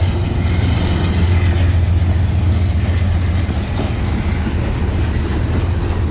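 A train pulls out of Poughkeepsie station with a loud, continuous low rumble and steady rolling rail noise, heard close by.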